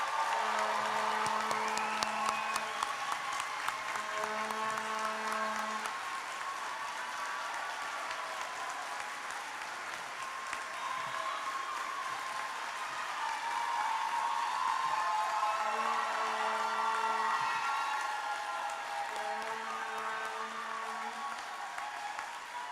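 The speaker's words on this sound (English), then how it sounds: "Please join me for one more round, or perhaps 10 more rounds of applause for our new doctoral and master's students" Sustained audience applause at a College of Liberal Arts graduation ceremony for new doctoral and master's graduates, a steady, moderately distant wash of clapping lasting over twenty seconds, with faint tonal sounds underneath.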